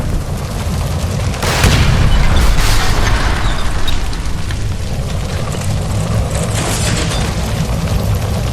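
A gas line explosion in L.A. Noire bursts into a loud, deep boom that rumbles and roars on, leaving a steady heavy background of fire and debris.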